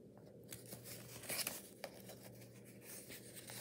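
Scissors snip through folded paper in a few short crisp cuts, with soft rustling and crinkling between them, close and quiet.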